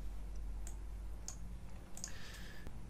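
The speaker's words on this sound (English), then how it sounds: "click apply and OK" Mouse clicks on the Apply and OK buttons of ArcGIS Model Builder, a few sharp, faint clicks spaced apart over a steady low background hum, with no talking.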